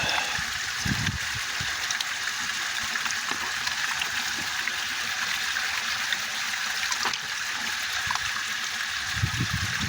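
Gold pan swirled in shallow stream water outdoors, giving a steady trickling, sloshing wash with occasional low splashes, close and continuous, without talk.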